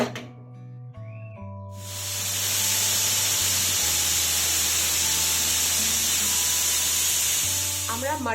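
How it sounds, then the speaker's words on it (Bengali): Pressure cooker on a low flame cooking bamboo shoot vegetable, letting out a loud sustained steam whistle and hiss that builds after a quieter start and holds steadily, with no talking. "চলুন এবারে লো ফ্লেমে 2টো সিটি দিয়ে দেব কুকারে।"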